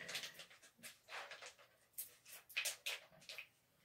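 A dog pants close by in a small restroom, quick rhythmic breaths in short bursts with brief pauses.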